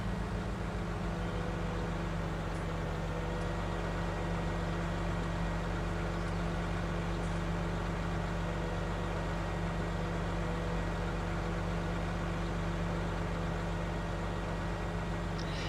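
A tractor engine in Farming Simulator 19 drones steadily throughout, a constant loud low hum with a faint higher whine on top, unchanging and free of speech.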